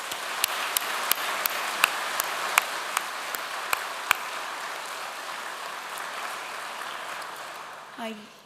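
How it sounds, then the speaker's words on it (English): An audience at a university conferring ceremony applauds the ceremony staff and volunteers, a soft, sustained patter of hands with a few sharp claps near the start that fades gradually, and a voice appears briefly at the end. "please join me in giving a big round of applause to the ceremony staff and all the volunteers"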